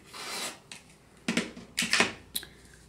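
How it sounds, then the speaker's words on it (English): Quilting fabric being trimmed at one corner, with a few short, crisp cutting and rubbing bursts spaced apart against a quiet background, close and fairly soft. "So I'm going to trim off this little corner."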